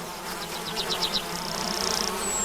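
A worker bee returning to the hive buzzes close by in a steady drone, with a rhythmic series of pulsing chirps over it, then a sustained high whine.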